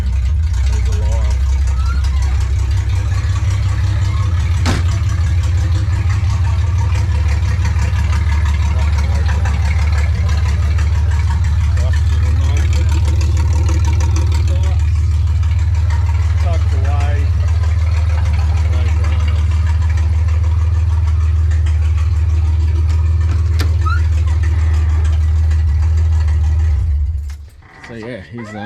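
EK Holden wagon, a classic early-1960s car being revived, with its engine catching and settling into a steady, loud, close idle that runs for nearly half a minute before cutting off abruptly at the end.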